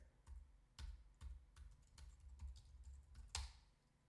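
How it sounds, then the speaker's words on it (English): Quiet, close keystrokes on a computer keyboard, a string of irregular sharp clicks with one louder tap near the end, and no voices. "I'm typing in the exact username here"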